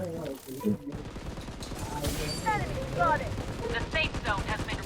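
Bursts of automatic gunfire in the shooter game BloodStrike, rapid rattling volleys coming from above, loud and continuous across the moment with a player talking over the shots.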